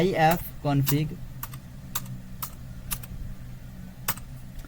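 Someone types a short command on a computer keyboard, giving a handful of sharp, evenly spaced keystrokes nearby. A voice speaks briefly at the start.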